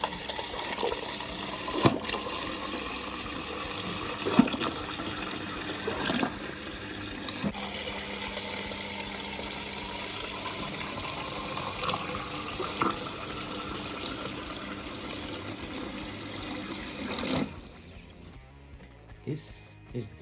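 Water rushes steadily through the line of a Hisense fridge water filter, with air in the line, making a continuous hiss with faint sputtering ticks that cuts off near the end.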